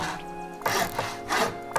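In the video game Rust, a hammer upgrades a building with two or three quick, close wooden knocking and scraping impacts in a short burst.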